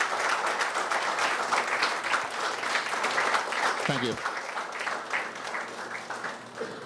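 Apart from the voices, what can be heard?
Rotarians applauding police team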